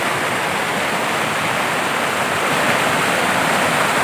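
A flooded river rushes past, a loud, steady, close broadband roar of turbulent water with no voices.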